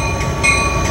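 An Amtrak Surfliner train at Carlsbad Village station, heard as a steady close rumble of wheels and rail noise with faint high tonal whine, no talking.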